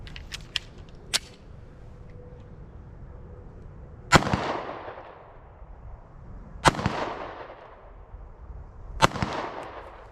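Four sharp, separated pistol shots from a Springfield Hellcat with a micro red dot, fired at an 80-yard target outdoors, each with a ringing tail, spaced a few seconds apart over faint background noise and small clicks.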